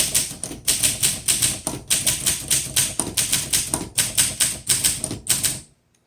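Vintage 1958 Olympia SM3 manual typewriter being typed on, with loud, close bursts of crisp keystrikes in quick rhythmic runs, short pauses between words, and a clean stop near the end.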